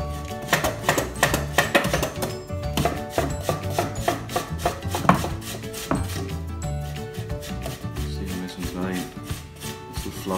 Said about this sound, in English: So I'm going to grate the potatoes into the bowl.